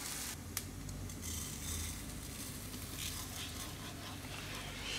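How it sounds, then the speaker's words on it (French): Olive oil beginning to sizzle in a pan as a risotto is started: a faint, soft, continuous frying hiss with light ticking, alone with no talk. "risotto ça se démarre à l'huile d'olive. Voilà, vous entendez, ça commence à chanter"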